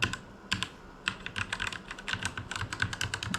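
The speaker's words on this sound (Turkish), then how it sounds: "Böyle karışık bir şekilde sıradan tuşlara basıyorum." Keys on a Monster laptop keyboard are pressed at random, producing rapid, close, crisp clicks in irregular bursts with short pauses between, quiet overall and without speech.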